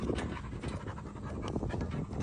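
A dog pants rapidly and steadily throughout, with rough, close breathing and faint scratchy noise, sounding strained and needy.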